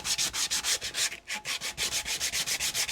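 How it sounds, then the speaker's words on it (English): Sandpaper rubs a Honda fuel tank in quick rhythmic back-and-forth strokes, close and loud, about a dozen scratchy passes with a short break near the middle. "I'm gonna start with a little sandpaper just to try to make the best possible"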